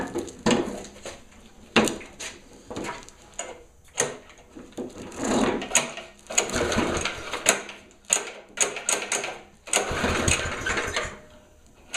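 A Murray lawn mower engine sputters and tries to catch after gas is poured into the carburetor, loud uneven bursts of cranking and firing close up, with no speech.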